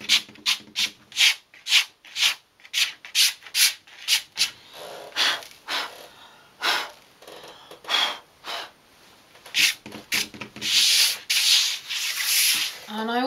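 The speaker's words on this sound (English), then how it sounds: "Or you can rub them off like this." Dried pigment paint being rubbed off a painted surface to reveal texture beneath, a quick series of close, rhythmic scratchy rubbing strokes that speed up and turn broader toward the end.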